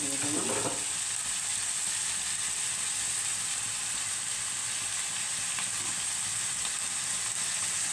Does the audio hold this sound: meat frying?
yes